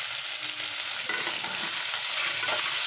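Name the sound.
crab frying in oil with turmeric and salt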